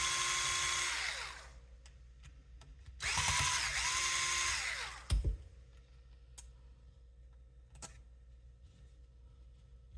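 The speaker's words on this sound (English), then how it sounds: "I am going to remove these 2 screws on top and take the whole" A 2mm hex driver, likely powered, backs screws out of the front bumper of an Associated Rival MT10 RC monster truck: two close whirring bursts, the second longer, followed by a few small clicks.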